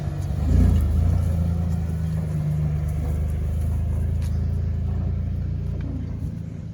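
A 1987 Ford F-150 pickup engine runs steadily with a low, continuous rumble, close and loud, on year-old gas, with a brief swell near the start.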